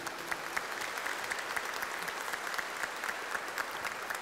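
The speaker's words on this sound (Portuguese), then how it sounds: "Uma salva de palmas a estes casais." At a Catholic Mass, the congregation applauds engaged couples preparing for the sacrament of matrimony: sustained, moderately faint clapping from a crowd, with a few sharper individual claps standing out.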